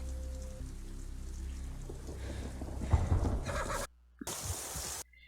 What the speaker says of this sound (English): That's a horse dying.